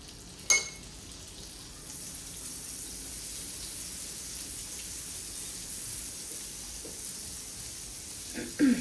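Amul butter melting on a hot tawa for grilling sandwiches gives a faint, steady sizzling hiss, with a couple of small clinks near the start and end.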